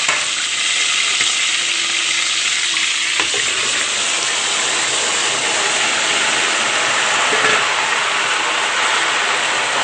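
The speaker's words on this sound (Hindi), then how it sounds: "अब हम इसमें चिकन के पीस डालेंगे और उसको फ्राई करेंगे।" Chicken pieces frying among golden brown onions with lemon and salt, a loud, dense, continuous hiss of frying that holds steady throughout with a few faint clinks, no talking.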